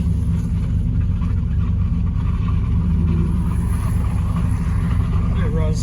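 A lowered Chevrolet Silverado pickup with a Cadillac conversion runs steadily while driving, giving a constant low engine rumble and road drone from inside the cab, with a voice talking over it.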